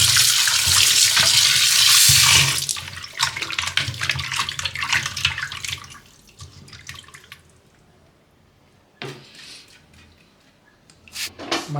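Chicken lollipops are washed by hand in water with salt and turmeric. Loud splashing and sloshing at first gives way to quieter dripping and handling, then a few brief splashes near the end.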